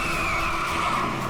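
A car skids with a long, continuous tire squeal over loud engine and road noise, its brakes failing, with no voices.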